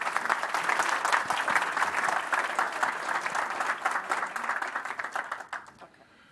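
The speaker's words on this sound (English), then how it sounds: "So everyone give him a quick round of applause." Applause from a tech talk audience at a Python user group meetup, a lively burst of many hands clapping nearby, steady for about five seconds before tapering into scattered claps and quiet.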